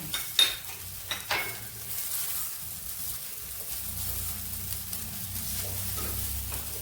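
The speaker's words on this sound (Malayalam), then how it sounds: "നമുക്ക് തേങ്ങ ഇവിടെ ഇട്ട് കൊടുക്കാം ഒരു നാല് ടേബിൾ സ്പൂൺ തേങ്ങ ചിരവി അത് വെച്ചിട്ടുണ്ട് അതുകൂടെ ഇട്ട് കൊടുക്കാം" Grated coconut stirred into ragi semiya (finger millet vermicelli) in a pan, giving soft scraping and stirring sounds over a low sizzle, with a couple of sharper utensil knocks near the start.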